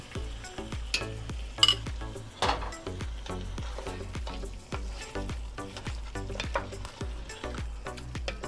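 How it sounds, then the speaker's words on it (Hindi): Yogurt being stirred into mutton chops masala as it fries in a pan, heard as steady, close sizzling with repeated rhythmic scrapes of the spoon, alone with no voices. "थोड़ा थोड़ा करके दही डालेंगे और फिर उसे चलाते जाएंगे"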